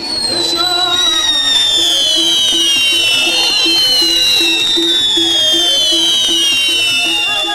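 Fireworks crackle and pop continuously amid a festive crowd in Yemen, with bright whistling tones and a steady stream of bursts filling the scene.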